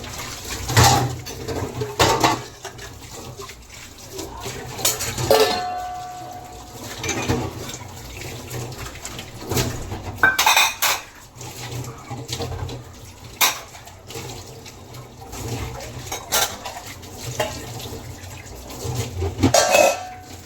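Dishes and pots used for morning tea and for cooking eggs are washed, with close clinks and scrapes of metal utensils, splashes of water, and a background of birds cooing now and then.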